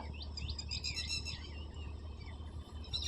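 A bird calls outdoors in a series of bright, chirping notes that cluster in the first half, heard over a steady low hum of background noise, with no talking.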